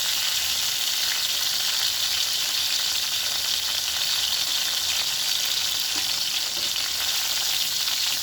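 Ripe pointed gourd fries in a pan for pickle-style sour curry, giving a steady, close, even hiss of sizzling oil that runs unbroken with no voices.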